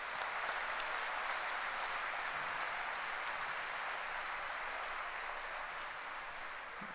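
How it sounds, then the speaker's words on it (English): Faint, distant applause from an audience at a live school prayer event honouring a singer of Swami Vivekananda bhajans, a steady even wash of clapping with no breaks. "And a round of applause for Jitu sir,"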